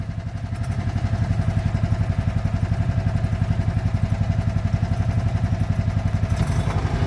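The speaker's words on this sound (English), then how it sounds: "this was his solution to get back up here, was Braden's go-kart" A small go-kart engine runs steadily while being driven, making a close, loud, rapid, evenly pulsing putter that holds a constant rhythm throughout without talk.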